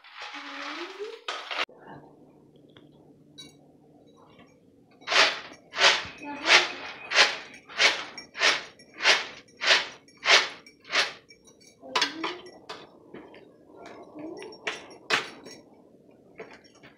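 Roasted peanuts are tossed in a winnowing tray to shed their skins, giving a run of rhythmic, evenly spaced rustling swishes at close range, after a brief voice at the start.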